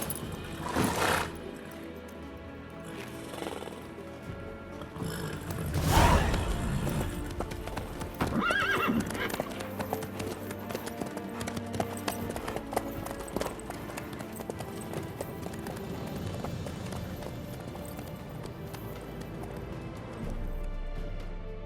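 Horse hooves clip-clop steadily alongside a few loud neighs and whinnies in The Witcher 3 fantasy video game, with faint ambient game sound underneath.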